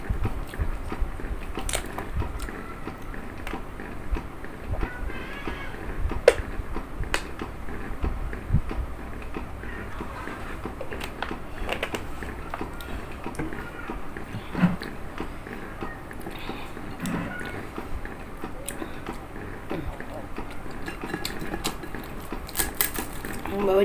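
Crunchy jengkol fritters (bakwan jengkol) eaten with spicy Betawi shrimp-paste sambal, close crisp bites and chewing crackling steadily throughout under intermittent talk.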